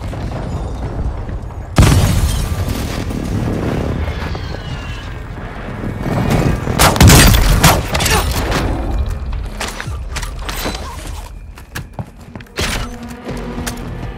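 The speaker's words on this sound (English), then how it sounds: "Hostile airstrike incoming." Airstrike explosions hit in Warzone 2: a sudden loud blast near two seconds opens a long run of heavy booms, thuds and crashing debris, which rumble on and slowly thin out near the end.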